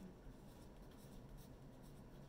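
A pen or pencil writes a name on a sheet of paper, a faint, steady scratching that runs continuously and alone.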